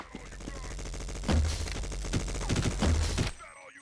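Minigun fire in the Sven Co-op game sounds as dense, rapid bursts of gunshots with heavy low thumps, played back in several loud volleys that end abruptly, under faint background voice.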